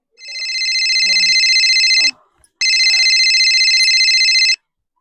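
A bright electronic mobile phone ringtone trills steadily for about two seconds, stops briefly, then rings again just as loud and steady.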